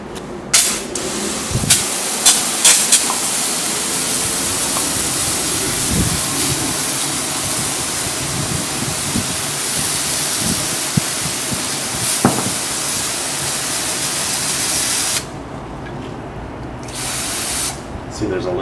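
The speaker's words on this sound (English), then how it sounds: "So I'm gonna rinse it now. I've got the hose here." Garden hose sprays water in a continuous loud hiss to rinse EvapoRust off a rusty metal part. The spray runs steadily for most of the time and then stops near the end, with a person talking over it.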